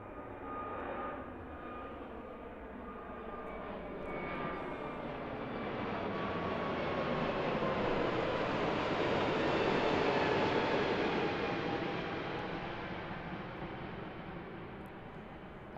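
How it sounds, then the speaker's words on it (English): An Airbus A321neo jet departs Christchurch Airport at sunrise, its engine roar swelling from a distant rumble to a loud broad peak mid-climb before slowly fading, with no talking. "Fly well, A321neo off to Sydney this morning."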